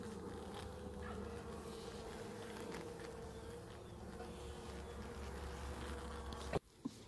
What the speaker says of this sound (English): So this is a beehive from every single possible angle.